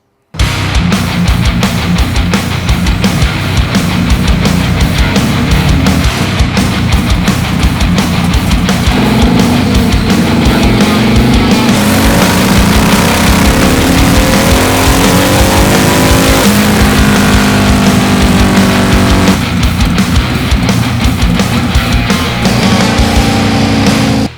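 A Harley-Davidson Sportster fitted with a Trask turbo kit revs hard on a dyno, loud and close, with engine pitch climbing through repeated pulls, a mid-run lift-off and rev drop, then another climb.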